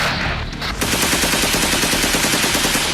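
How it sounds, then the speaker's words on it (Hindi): Rapid machine-gun fire in a North Korean execution news report, a loud continuous burst of shots after a brief lead-in. "किम के आदेश पर ऐसे ही ताबड़तोड़ गोलियां चली।"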